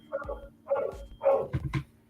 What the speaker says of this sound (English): Of course, the dog.